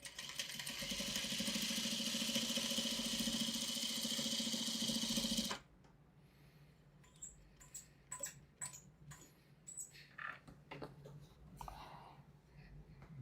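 A sewing machine stitches a custom fitted project in a loud, steady, fast whir. It cuts off abruptly partway through, followed by scattered light clicks and handling noises.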